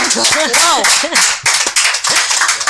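Clapping from an audience in a French quiz show after a correct answer, short bursts of claps mixed with excited voices and cheering over under three seconds.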